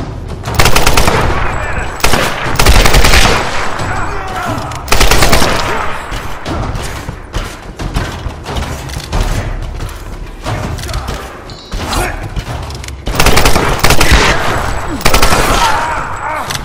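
Sustained machine-gun fire from a Tomb Raider Definitive Edition firefight, loud bursts of rapid automatic shots with heavy volleys near 1, 3, 5.5 and 14 seconds and steady gunfire in between.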